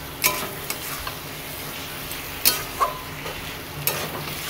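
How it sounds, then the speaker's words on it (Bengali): Taro stolons sautéed in a pan, a continuous close sizzle broken by a few crisp clacks and scrapes as a spatula stirs, no voices. "লতিগুলো দিয়ে ভালো করে এটা কষাবো"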